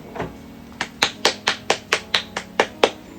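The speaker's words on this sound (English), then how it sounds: "Clap for me." About nine sharp hand claps land at a steady, moderately quick pace, close up and fairly loud, preceded by a softer tap, with no talking.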